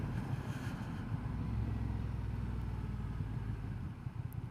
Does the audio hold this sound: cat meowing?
no